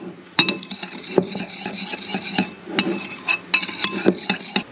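Sauce with oyster sauce being stirred in a bowl, close scraping and rubbing strokes with light clinks of utensil against the bowl in an irregular rhythm.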